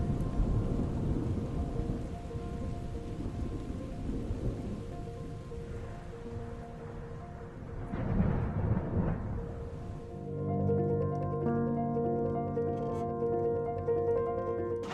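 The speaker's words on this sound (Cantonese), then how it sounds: "而家仲有雷暴啊！" A thunderstorm on the Camino Francés in Spain brings continuous rain and rolling thunder. The rumbles swell and fade over a steady rain hiss, heard fairly faint and at a distance.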